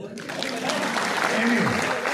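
Audience applause fills an auditorium, the Ganga multipurpose hall in Ballia, as a steady, dense clatter of many hands that keeps going for about two seconds, close and fairly loud.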